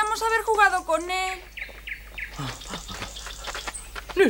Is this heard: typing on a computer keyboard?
no